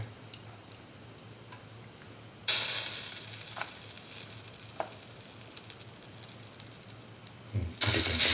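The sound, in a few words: batter-dipped chayote slice frying in a pan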